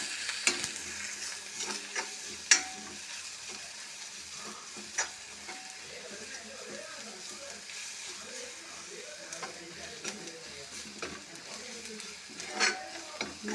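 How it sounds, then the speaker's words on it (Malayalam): Garam masala stirred into a pappadam curry in a pan: a soft, steady sizzle runs throughout while a spoon scrapes and clicks against the pan at irregular intervals, with a few sharper knocks. "ഇനി അല്പം ഗരം മസാല ചേർത്ത് കൊടുക്കാം. അതിന് നല്ലതുപോലെ ഒന്ന് ഇളക്കി യോജിപ്പിക്കാം"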